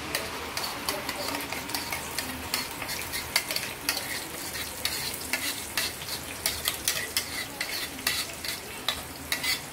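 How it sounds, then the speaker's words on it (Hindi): Masala paste for rajma masala frying and sizzling in a pan on medium-high flame, stirred with a spoon that scrapes and clinks steadily throughout, close and fairly loud. "अभी हम डालेंगे हमारा पेस्ट जो बनाया है हमने वो मसाला।"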